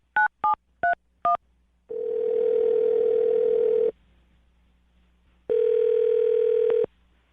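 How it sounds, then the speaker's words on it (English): A few short keypad tones beep in quick succession, then a steady telephone dial tone hums for two seconds, pauses, and returns briefly. "I'm going to dial her phone number right now"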